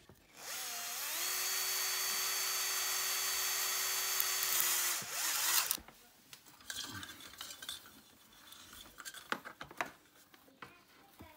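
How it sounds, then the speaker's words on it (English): A power drill bores a big hole during garden office building work, whining steadily at close range for about four seconds before it cuts off, followed by scattered clunks and handling noises. "So I've got to drill a big hole kind of here to make it work."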